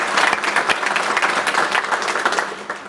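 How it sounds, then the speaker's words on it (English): A crowd at a McKesson ribbon-cutting ceremony breaks into steady, fairly loud applause, with dense overlapping clapping throughout and no talk over it. "I'd really like to offer a round of applause for the employees and the management team"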